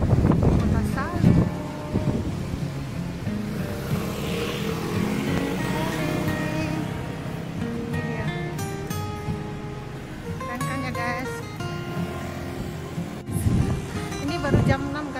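Strong wind blowing outdoors in a residential area of Shalu, Taichung, roaring and buffeting the microphone in rushing gusts, with a person talking over it.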